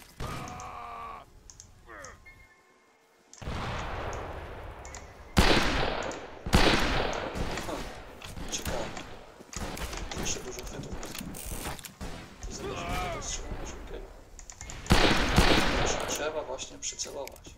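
Revolver fire in the video game Fistful of Frags comes as a string of sharp, loud shots with mechanical clicks between them, and a voice talks over parts of it.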